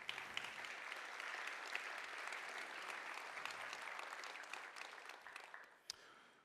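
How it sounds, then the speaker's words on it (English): Audience applause at a vSaaS industry event, a steady wash of many hands clapping for the sponsors, fairly even and sustained before tapering off near the end. "Huge round of applause for our sponsors today."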